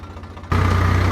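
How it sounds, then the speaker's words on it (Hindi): A tractor engine runs slowly in a field during crop work, starting as a muffled low hum and then jumping to a loud, steady close drone with a strong low rumble. "ट्रैक्टर बहुत धीमे धीमे चलाना पड़ता है"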